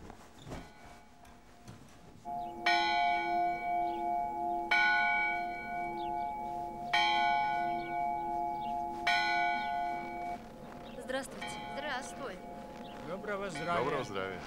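Church bells ring out in a slow, steady series of struck tones that resonate between strikes, with voices speaking faintly underneath.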